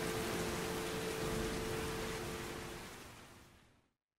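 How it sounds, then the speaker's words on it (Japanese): Steady, dense rain pours down in the video game Heavy Rain, a loud, even hiss that fills the clip before fading out toward the end, with no voices. "雨が降ってます。"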